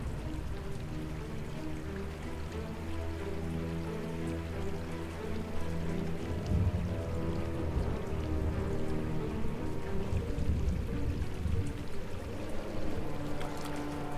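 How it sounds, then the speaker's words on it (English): Steady, heavy rain pours down continuously, a dense hiss of drops that grows a little stronger partway through. "The rain poured down for days, and the flooding was extensive."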